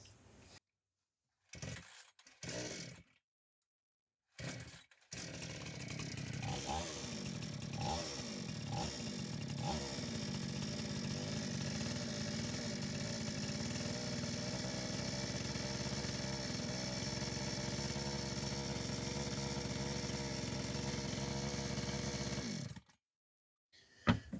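Kitprom petrol chainsaw engine running alone after a start, revs rising, dipping and surging again in repeated waves, with a steady loud drone that cuts off near the end; this saw has a fault that makes it overrev.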